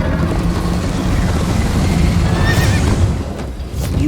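A horse in the Minecraft Story Mode game whinnies loudly over a steady rumble of galloping hooves during a chase, with a brief dip near the end before the pounding resumes.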